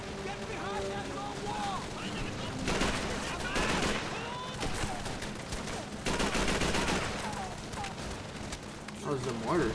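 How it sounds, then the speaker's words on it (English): Mortar blasts and gunfire from Call of Duty 3's WWII island battle at St. Germain-sur-Sèves, a dense barrage of booms and shots under shouted voices, with heavy impacts swelling near the middle and the end. "That was the mortar."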